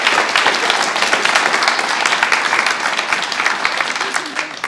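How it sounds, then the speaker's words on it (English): A graduation audience gives a round of applause for guide dog team graduates, dense, lively clapping close and loud throughout, tapering slightly at the end, with some talk mixed in. "how about a round of applause for Marissa and Jim?"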